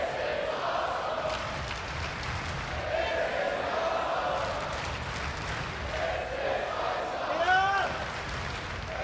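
A capacity crowd roars steadily at a TNA wrestling match in the Edmonton Expo Center, a dense, distant wash of cheering with whistles and shouts. A commentator's voice runs over it.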